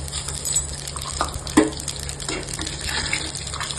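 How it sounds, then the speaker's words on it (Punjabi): Cumin seeds dropped into hot oil in a kadai, with garlic about to follow: a steady crackling sizzle throughout, one sharper pop near the middle, close and moderately loud with no talk. "ਕੜਾਈ 'ਚ ਆਪਾਂ ਤੇਲ ਗਰਮ ਕਰਿਆ ਸੀ। ਹੁਣ ਜੀਰਾ ਪਾਵਾਂਗੇ"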